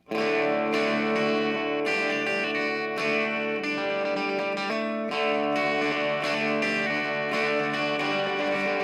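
Instrument played through a reverb pedal at a livestreamed happy hour, sounding as loud sustained chords with repeated strikes that wash and ring into one another, with no voices.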